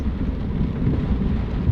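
Heavy rain pours with a low, rolling rumble of thunder in a horror video game, a dense steady wash of sound with no voices.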